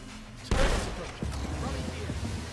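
A grenade goes off in a firefight in Fallout London, a single sharp, loud blast followed by a second thump and rumbling decay, with voices speaking underneath.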